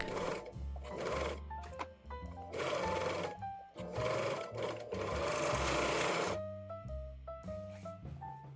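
A sewing machine stitches the center back seam of a dress sleeve, running in bursts of steady mechanical whirring with short pauses between runs, close and alone.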